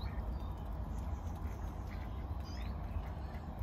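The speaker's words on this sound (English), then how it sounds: "Been invaded by ducks." Ducks quacking at a carp pond, faint scattered calls over a steady outdoor rumble of wind and water, fairly distant with no voices.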